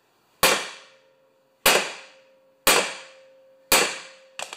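A two-pound hammer strikes a Honda Quadra Cut mower blade four times at roughly one-second intervals, each sharp metallic clang ringing out and decaying, with a fifth blow beginning at the end.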